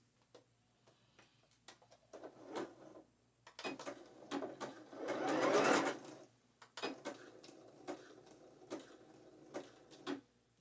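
A sewing machine stitches net fabric and braided elastic for a thong bikini: scattered clicks and taps, then a short whirring run, with further light ticking afterward.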